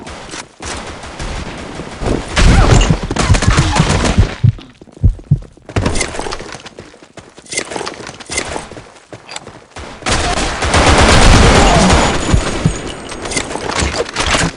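Weapon fire in the online shooter BlackShot on the Lost Temple map, loud bursts of rapid gunshots in several clusters with brief lulls between, dense and close, with game effects mixed in.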